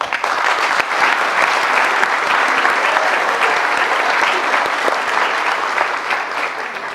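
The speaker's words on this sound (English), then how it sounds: "I would first like to give a well-deserved round of applause for my fellow classmates." Loud, sustained applause for the graduating class at a commencement, a large audience clapping densely and evenly for several seconds with no talking over it.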